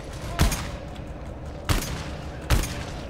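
Gunfire against a tank in the co-op shooter GTFO comes as three loud, sharp shots spaced about a second apart over a constant low background rumble, with no talk during the shots.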